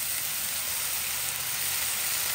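Onion, chile and tomato frying together in a pan, a steady close hiss of sizzling oil that runs unbroken and alone, with no talking over it.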